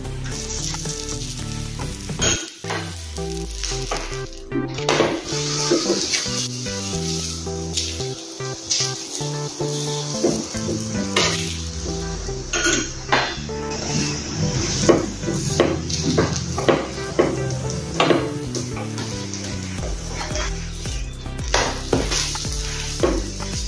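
Aloo paratha sizzling steadily in ghee on a hot pan, with continuous frying crackle, occasional spatula scrapes and pan clatter, close and alone with no talk.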